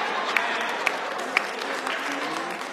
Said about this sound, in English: Y'all should clap for me